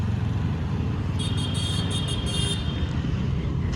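A learner rider gently throttles a two-wheeler scooter, its engine giving a steady, close, low drone that rises only slightly, with a brief higher tone cutting in around the middle.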